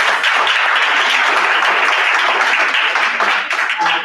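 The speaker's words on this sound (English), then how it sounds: "can we give him another round of applause" Conference audience applauding, a dense steady wash of many hands clapping that stays loud for the whole span before tapering slightly at the end.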